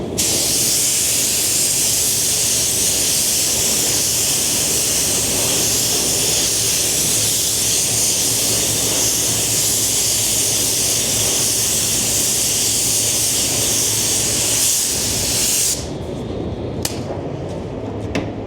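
Spray gun hissing steadily as a second coat of water-based paint goes onto a Lamborghini Revuelto, a loud, continuous broadband spray lasting about fifteen seconds before cutting off, followed by faint quiet taps.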